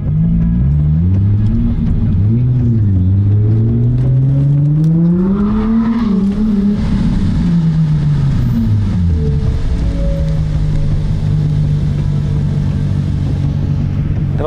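A tuned race car engine revs hard on a track during timed laps. It is loud and close, with a rising and falling snarl across several revs, then settles into a steadier drone, and no one speaks.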